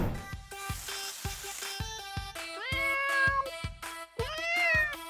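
Several loud, close cat meows, repeated one after another with strong tonal harmonics, some rising and wavering, over a background of faint clatter.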